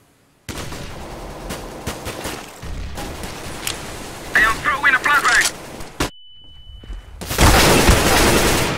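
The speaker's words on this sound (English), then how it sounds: "I am throwing a flashbang." Video game firefight with a thrown flashbang: sharp gunshots and bursts of automatic fire, a quiet ringing tone after a blast, then a loud roaring burst, with excited voices over parts of it.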